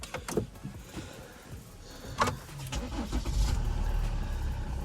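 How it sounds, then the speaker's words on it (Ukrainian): A 2017 Volvo V60 Cross Country 2.4 D4 diesel engine with 214,000 km cranks and catches after a few clicks and faint movements, then settles into a low, steady idle rumble. "Давайте запустимо автомобіль, послухаємо, як він."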